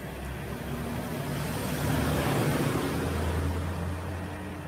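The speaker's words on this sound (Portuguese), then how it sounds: "mas o motor ele puxa a garrafa cheia d'água." A homemade motor with a reduction gearbox hauls up a full water bottle, giving off a steady, moderately loud mechanical hum with a low droning whine throughout, and no voices.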